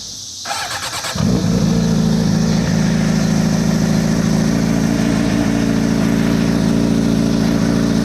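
A Suzuki GSX-R600 motorcycle engine, just repaired for a leak, cranks briefly, catches and fires up, then settles into a loud, steady idle rumble close by.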